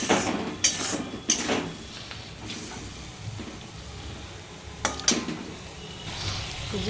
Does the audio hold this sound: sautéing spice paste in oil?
yes